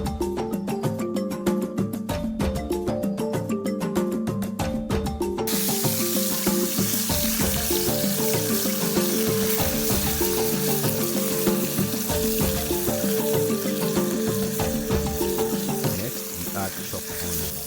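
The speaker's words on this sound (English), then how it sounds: "add the fermented fish to fry, allowing it to release its flavor into the oil" Steady, close sizzling of fermented fish frying in hot palm oil, a dense crackling hiss that continues throughout with occasional stirring.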